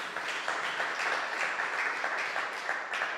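Applause from an audience at a city council member's public talk, a dense, steady wash of many hands clapping that holds evenly throughout and stays fairly loud.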